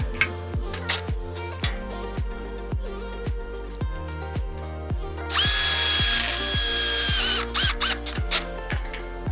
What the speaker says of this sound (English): fasten them with 2 of your self-tapping screws